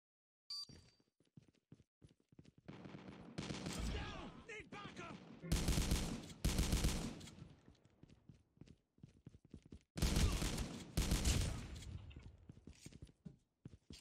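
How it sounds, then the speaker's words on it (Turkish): In the Call of Duty Mobile video game, shotgun fire rings out in several loud, separate blasts and short volleys, with quieter footsteps and game noise between them. "Pompalı mıydı bu tüfek? Pompalı."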